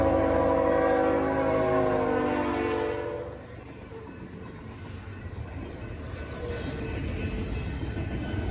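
Freight train led by CN GFO locomotive 2827 sounds a loud, sustained horn at close range, then the horn cuts off and the steady rumble and clatter of rolling railcars continues.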